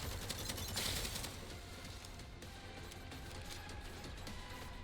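Rapid volleys of enemy gunfire clatter in a looter shooter roguelike game, a dense automatic burst that is loudest early on and then settles into a quieter, continuing rattle of shots.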